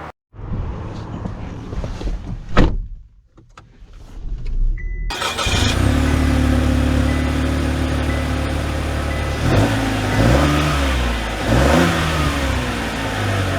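2024 Chevy Trailblazer Activ starting up after some clicks and a cranking burst, then settling into a steady engine hum that rises through several revving climbs as it drives off.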